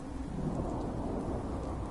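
Steady rain pours with a low, rolling rumble of thunder in Fallout 4's Nuka-World, a continuous broad wash of sound at a fairly quiet level with no voices.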